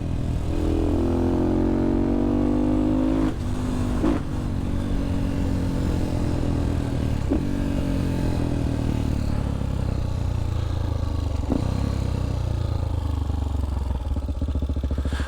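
A motorcycle rides along back roads, its engine loud and close throughout, with rising and falling revs through several gear changes and steady wind rush.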